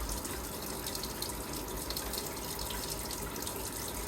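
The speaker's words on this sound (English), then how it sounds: "the water coming out of the tap is pretty cold" Cold water runs steadily from a household tap fed by a Worcester Bosch compact combi boiler with a faulty secondary heat exchanger, a continuous close hiss and splash with no break and no voices.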